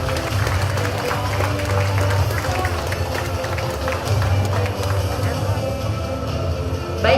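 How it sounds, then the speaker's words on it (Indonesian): Audience at a Jakarta JakLingko transport fare integration ceremony honouring Anies Baswedan gives sustained, dense applause from a sizeable crowd over a low hum, holding steady for several seconds. "kita berikan tepuk tangan sekali lagi yang paling hangat kepada momen hari ini"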